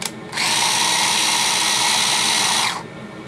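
A power drill whirs steadily for about two and a half seconds while drilling a plastic cap, close and loud, starting and stopping cleanly with no talking.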